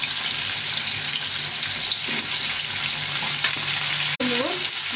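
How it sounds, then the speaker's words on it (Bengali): A fish head fries in oil with a steady close sizzle, mixed with running-water and stirring noises and a brief sharp clatter near the end. "মাছের মুড়োটা ভাজা হয়ে গেছে"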